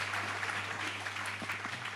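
A studio audience applauds Cirque de Lumière with a steady, even patter of clapping that stays fairly faint and distant over a low background hum.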